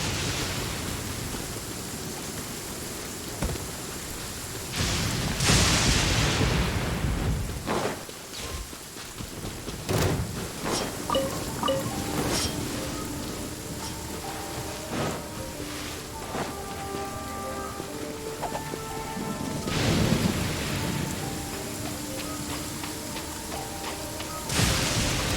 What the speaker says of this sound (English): The thunder rumbles.